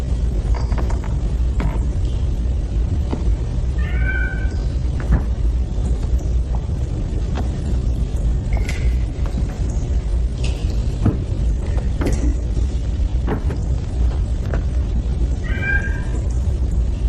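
A cat gives a few faint, short meows at scattered moments, buried under a loud constant rumbling background in a film scene.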